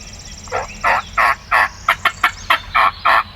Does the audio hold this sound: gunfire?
no